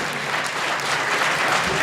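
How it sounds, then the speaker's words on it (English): Steady, dense applause from a crowd on its feet for North Carolina Central head coach Jerry Mack at a press event, continuous and even throughout with no pauses. "He's getting a standing ovation by the crowd here in attendance"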